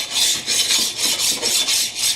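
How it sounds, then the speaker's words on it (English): A flat file rubbed back and forth over the back surface of a metal ring gives a close, steady rasping scrape in even strokes, about eight passes in two seconds, with no voices. "take a good flat file"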